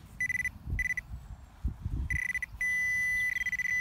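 Beeps from an Alter 71 metal detector sweeping a field in the UK, a loud close series of short tones and then a sustained one, over rustling handling noise.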